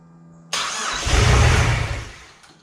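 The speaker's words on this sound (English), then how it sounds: "Starting the car." A junkyard engine swapped into a car cranks and catches with a sudden roar, revs up briefly, then settles down and fades, close and loud; it runs without an exhaust.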